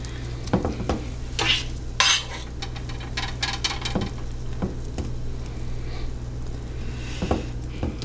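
Stuffing mixture spooned into green peppers, with repeated scrapes and light clinks of a metal spoon against a dish in an irregular rhythm over a steady low hum, close by and without talk.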